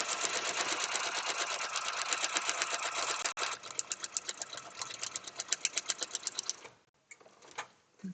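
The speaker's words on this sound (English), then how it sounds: "just lining up the line with the middle of my presser foot, hand cranking so that the needle goes into the down position" A hand-cranked sewing machine stitches through fabric with a rapid, steady mechanical clatter up close, then slows into separate distinct stitch clicks before a brief pause and a final few strokes.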